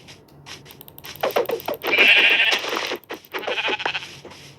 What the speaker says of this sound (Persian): گوسفند